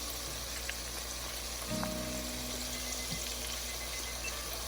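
Red pepper flakes and paprika frying in hot oil for Haitian black mushroom rice (diri djon djon), giving a steady close sizzle with a brief louder crackle partway through.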